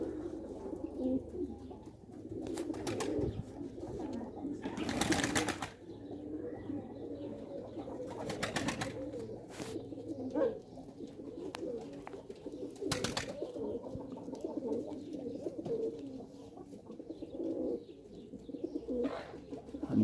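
Pigeons coo steadily in a loft, their low, rolling calls overlapping in a continuous murmur for about twenty seconds, with a few louder bursts standing out near the listener.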